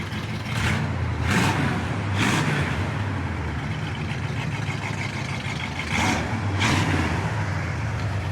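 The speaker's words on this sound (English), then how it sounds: "As you can hear, it's got a little exhaust leak here" A 1971 Pontiac Grand Prix engine idles steadily with a low rumble, with periodic puffing bursts from a small exhaust leak recurring every second or so.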